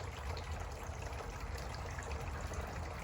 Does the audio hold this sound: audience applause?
no